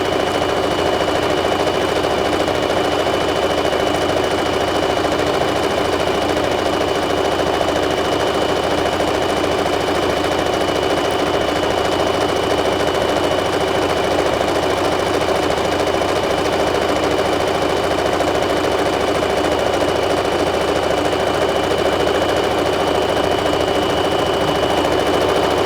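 A sewing machine stitching a seam along the edge of pajama bottoms, a loud, close, continuous rapid mechanical chatter that runs unbroken throughout with no talking.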